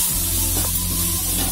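Steady, dense sizzle of ginger, garlic, coriander and green chili paste frying in a hot pan, loud and close with no pauses or voices.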